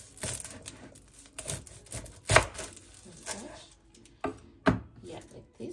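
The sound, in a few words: knife cutting garlic on a board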